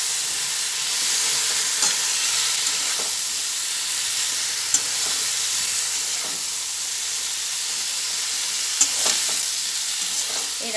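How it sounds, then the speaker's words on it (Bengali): Chopped brinjal frying in a pan with a steady, loud, hissing sizzle throughout, broken by occasional faint clinks of stirring. "যে বেগুনটা কেটে ধুয়ে রেখেছি সে বেগুনটা এর মধ্যে ঢেলে দিলাম। একসঙ্গে সব মিশিয়ে ভেজে নিচ্ছি।"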